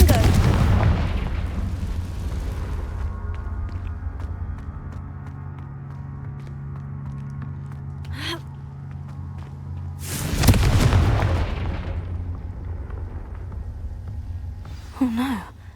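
A Confringo spell explosion in a video game sounds as two loud booming blasts, one at the start and one midway, over a low steady ambient drone. A voice briefly sighs or exclaims between them.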